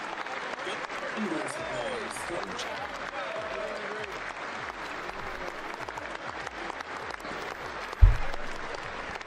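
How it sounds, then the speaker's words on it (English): At the State of the Union, a packed chamber claps in a long, unbroken wash of applause, steady and loud with a sharp thump near the end and voices murmuring underneath. "Thunderous applause."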